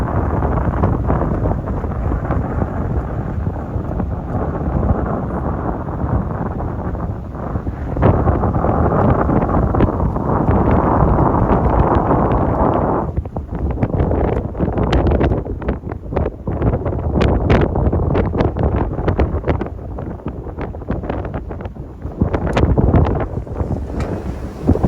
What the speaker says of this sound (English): I hope you can hear me over this wind